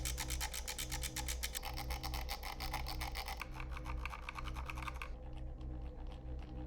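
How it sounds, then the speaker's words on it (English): Scroll wheel on a Zowie gaming mouse rolled repeatedly, giving rapid grindy ratcheting clicks in quick rasping bursts that grow quieter toward the end. "The scroll wheel is really grindy on this, and it's also, again, quite loud."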